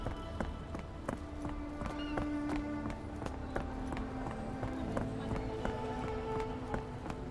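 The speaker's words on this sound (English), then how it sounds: "Oh, look at the horsey do a lie down." Horse hooves clip-clopping in the Sherlock Holmes: The Awakened game, a steady run of near, even hoofbeats over a low background tone with no talking.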